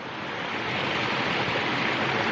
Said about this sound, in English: So this creek will last, it'll flow well into July on normal years for sure.